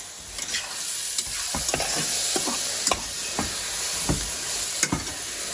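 Skinless lard pieces and onions frying in a pan for homemade blood sausage, with a steady sizzle broken by occasional scraping stirs of a utensil, close up and without voices.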